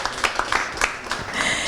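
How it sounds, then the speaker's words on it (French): A studio audience at the final of a televised makeup competition applauds a hotel sponsor, with a short burst of separate, sharp handclaps close by that swell into a brief round of applause. "On applaudit Alvi Hotel."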